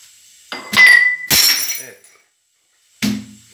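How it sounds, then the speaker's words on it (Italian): A drinking glass falls in a bedroom and hits the floor close by. A bright clink is followed by a loud shattering crash and a scatter of fragments. After a short silence comes another dull knock. "Ecco, è caduto il bicchiere."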